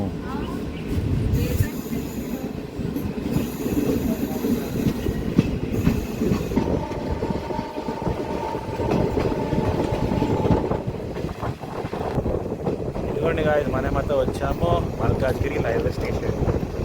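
DEMU local train on the Kacheguda to Karimnagar route pulling out of a station, a close rumbling roll with wheel clatter, a sustained horn-like tone midway and wind buffeting, heard from on board.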